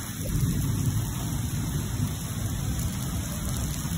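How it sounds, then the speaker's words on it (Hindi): Heavy rain pours down in a dense, continuous hiss, close and steady for the whole stretch, with no talking. "बहुत अच्छी बारिश हो रही है।"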